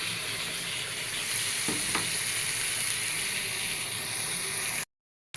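Chicken pieces frying with garlic in a pan, a steady bright sizzle and hiss throughout with a few stirring scrapes, cutting off abruptly near the end.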